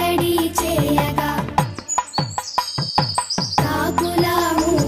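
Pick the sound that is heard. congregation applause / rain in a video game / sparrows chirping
sparrows chirping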